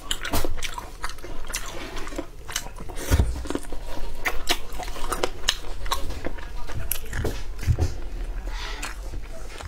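A spicy snack is being eaten up close, with repeated loud biting crunches and wet chewing in a steady rhythm throughout and no clear talk.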